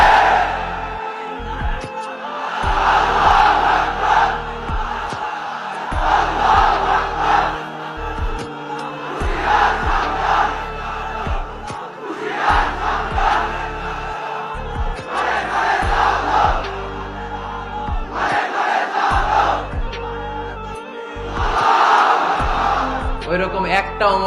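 Crowd at an Islamic sermon shouting back to the preacher in repeated loud collective bursts, rising and falling every few seconds between stretches of the preacher's voice.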